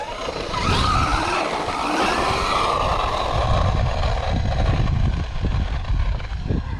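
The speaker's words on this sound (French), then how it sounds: "Là le bruit il est atroce, hein. J'ai laissé trop d'entre-dents, tu vois Rick." The engine of a mini car runs loudly with noisy gear backlash, a harsh, rattling mechanical roar that rises and holds steady throughout at close range, with no speech.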